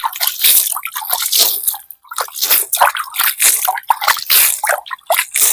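Water is poured onto soil around a newly planted lubica seedling, giving close, irregular splashing, dripping and squishing bursts with short gaps between pours.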